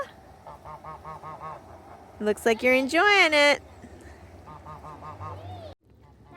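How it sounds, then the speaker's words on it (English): Geese honk repeatedly outside a snowy barn, a run of nasal calls that swells into a loud burst of overlapping honks before easing back to scattered calls, with a person's voice speaking briefly over them. "The ducks and geese came out."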